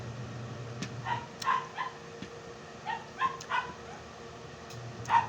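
A dog barks in a series of short, sharp yaps and barks, roughly eight in uneven clusters over about five seconds, heard at moderate distance over a steady low background hum with no talking.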